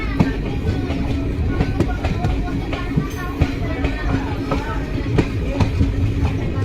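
A passenger train leaves Dhuliyan station on a journey toward Azimganj, heard from on board as a continuous rolling rumble with rhythmic wheel clicks and rattles, while people chatter in the background.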